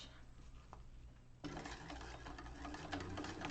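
A sewing machine running a short burst of stitching, including a back stitch at a 5/8-inch seam while making a bag, starting abruptly partway through as a steady close whir over a low background hum.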